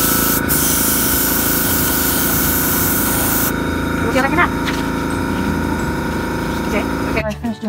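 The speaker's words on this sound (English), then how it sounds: "And I spray a little white over it." A steady, loud hiss of white spray paint is applied over a small stencil on a handmade 4-inch bluegill swimbait. The spray cuts off partway through, leaving a fainter background hum.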